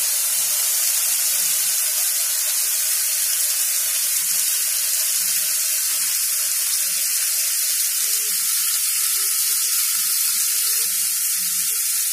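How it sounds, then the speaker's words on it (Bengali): Water is poured into a hot cooking pan of frying potatoes and mushrooms, making a continuous running, splashing hiss at moderate level with faint sizzling underneath. "এবার একটু জল দিয়ে দেবো।"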